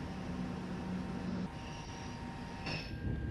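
A TGV Duplex Series 200 high-speed French train in a railway simulation passes with a steady rumbling roar and a tonal hum, a brief brighter whine near the end, no talk over it.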